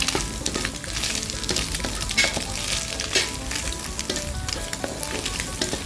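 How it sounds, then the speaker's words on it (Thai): Baby corn stir-fried in a hot pan, a loud continuous sizzle with repeated scraping and clattering of a spatula as it is tossed, no talking. "ยอดข้าวโพดอ่อน สุกช้าเราก็จะเอาลงไปผัดก่อนนะคะ"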